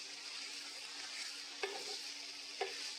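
Diced yam sautéing in homemade butter ghee, giving a steady, even sizzle with two sharp spatula scrapes about a second apart and no talking.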